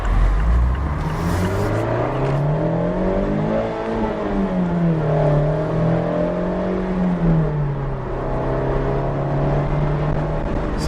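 Constant road roar inside a Mazda MX-5 RF GT at highway speed, with artificial engine tones rising and falling beneath a steady broadband rush of wind noise.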